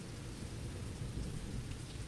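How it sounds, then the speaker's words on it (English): Steady rain in a video game, a soft, constant hiss and patter that stays even throughout with no voices over it. "it's raining."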